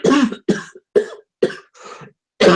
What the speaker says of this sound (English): I've got a cough coming